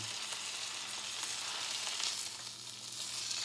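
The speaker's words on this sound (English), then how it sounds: "steak is cooking a bit" Steak sizzling in a hot pan, a soft, steady crackle and hiss of frying with small pops scattered throughout, fairly quiet and close.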